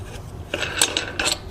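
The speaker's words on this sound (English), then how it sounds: "we're going to completely unscrew these." Black plastic knobs are unscrewed on a trike update kit, with a few short scraping and rubbing turns close by and brief pauses between them.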